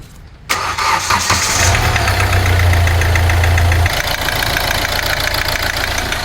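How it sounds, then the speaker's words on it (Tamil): A Hyundai i20 engine cranks and catches after a brief pause, surging loudly then settling into a steady, close idle hum that drops slightly in level near the end, with no voices. "வண்டி ஸ்டார்ட் பண்ணுங்க"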